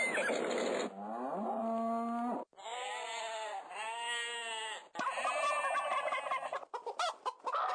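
A domestic cow moos in three long, loud, drawn-out calls with clear rising and falling tone, close by, followed by a shorter broken call and brief noise.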